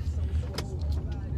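A car driving, heard from inside the cabin: a steady low road and engine rumble with faint brief clicks, with no voices over it.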